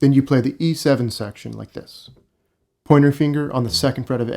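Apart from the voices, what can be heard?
No distinct noise like a dog, phone or traffic.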